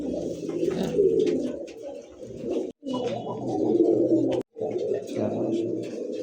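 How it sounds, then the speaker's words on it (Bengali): Domestic pigeons, including Giribaz breeds kept for sale, coo repeatedly nearby in soft, rolling, throaty phrases separated by brief pauses. "দুইটা কবুতর দেখেন"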